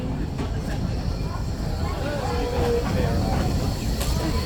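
Vintage C4 steam locomotive of the Don River Railway in Tasmania setting off from the platform, a steady broadband rumble and hiss of the train carrying on throughout, with people talking nearby.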